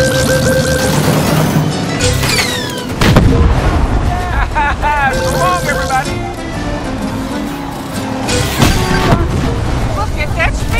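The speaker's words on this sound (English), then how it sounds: "Rockets are in the air." Rockets fire and explode repeatedly in the Cars 3: Driven to Win racing game, a dense chaotic stream of blasts and crashes over racing engines, with voices talking throughout.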